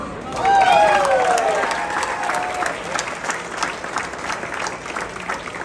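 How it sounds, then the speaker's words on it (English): A crowd at an event presenting the Air Force Thunderbirds demonstration team applauds and cheers for a pilot, swelling loudly at first with whoops, then settling into steady clapping that slowly thins. "that's a very valid set of applause"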